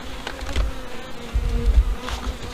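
Honey bees swarm around an opened hive during brood and super rearrangement, a close, steady droning hum with individual bees buzzing past the microphone in low, rumbling swells.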